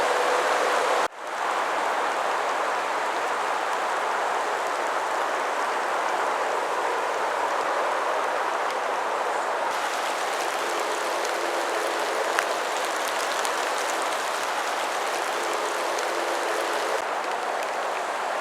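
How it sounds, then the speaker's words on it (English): Heavy rain falling hard at canal locks during gate replacement works, a dense, continuous hiss of drops that starts abruptly and stays loud and steady throughout, with no voices. "It's raining quite hard now."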